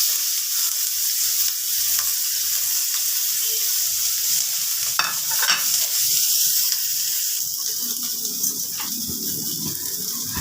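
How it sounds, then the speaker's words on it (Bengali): Onion and ginger hit hot oil in a pan where garlic has already fried, setting off a loud, steady sizzle with stirring clatter midway. The frying is for baby corn soup. "রসুনটা ভাজা হয়ে গেছে, এবার আমি পেঁয়াজ আর আদাটা দিয়ে দিলাম।"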